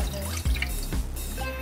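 A cup of water is poured into a pot on the stove, a brief close splash with a couple of hollow plops and drips, then a light trickle.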